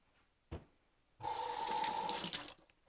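A tap is turned on for hand washing during baking in a home kitchen; after a brief knock, water gushes steadily into the sink for over a second, then cuts off, close and clear.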